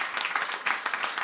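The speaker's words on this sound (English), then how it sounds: "I think we need to give Amar a special applause here." Audience applause at an art forum panel on cities: a dense, steady round of clapping from a crowd that fills the room with no pauses and no voices.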